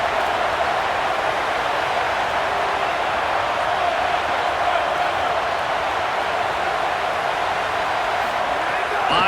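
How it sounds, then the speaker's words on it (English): Dense, steady roar of a large home crowd cheering at a college football game between Washington and USC, loud and unbroken throughout with no pauses. "how nice is it to have the home crowd going absolutely bananas?"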